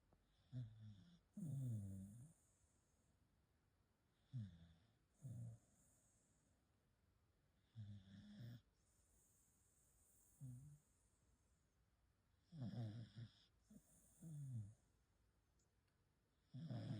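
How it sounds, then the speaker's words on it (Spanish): A corgi snoring with loud, human-like rasping snores, about six bursts in a slow, regular rhythm separated by quiet pauses, close and clear with no talk. "El perrito que ronca como humano."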